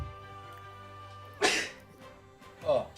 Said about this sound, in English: Oh, sorry, I had to sneeze